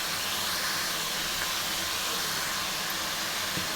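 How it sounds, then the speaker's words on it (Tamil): Ridge gourd sautéing in a pan gives a steady, dense sizzle that holds at an even level throughout, close and fairly loud, with no talking. "நல்லா வதங்கட்டும்."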